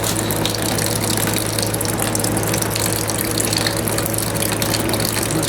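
Old fuel residue and water drain out of the fuel tank of a John Deere AR tractor, a loud, steady gushing pour with a constant low hum beneath, close and uninterrupted.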